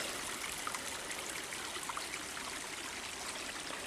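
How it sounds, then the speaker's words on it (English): A small autumn stream with fallen leaves trickles steadily outdoors, a soft continuous rush of running water heard alone at moderate distance. "This lovely little stream, which has provided water in the hot days of summer"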